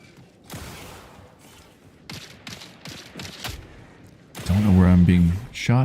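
Gunfire in the video game Marathon: sharp bursts of shots and mechanical clatter, close and fairly loud, with a loud tonal blast near the end; no speech is heard.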